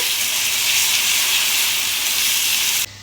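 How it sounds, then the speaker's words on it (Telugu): Ground tomato puree frying in a pan with curry leaves for a fish curry, a loud, steady hissing sizzle that runs unbroken before cutting off abruptly. "ఇప్పుడు గ్రైండ్ చేసుకున్న టమాటా ప్యూర్ వేసుకున్నాం ఇది పచ్చివాసన పోయే వరకు వేయించుకోవాలి"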